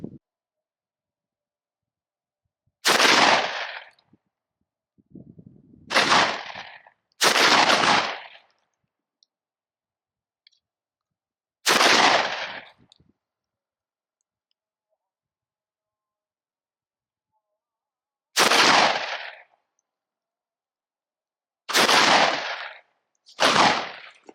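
A Derya Lion LP101 semi-automatic smoothbore fires cartridges outdoors, seven loud, sharp bangs spaced irregularly with silence between them.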